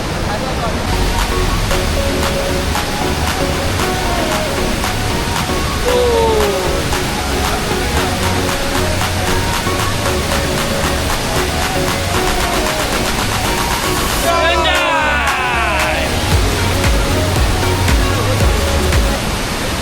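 A loud, steady roar of a waterfall behind a Ganpati temple near Chiplun, Konkan, fills the whole stretch, with faint voices occasionally audible beneath the rushing water.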